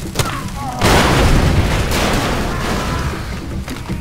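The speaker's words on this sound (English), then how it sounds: "Grenade out, Yusuf!" A grenade blast in the shooter game Far Cry 2 lands as a loud, heavy boom and is followed by a long rumbling tail that mixes with ongoing battle noise.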